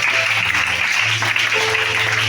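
Congregation applauding during a Sunday church service in Libreville, a dense, loud burst of clapping and crowd noise filling the whole short stretch.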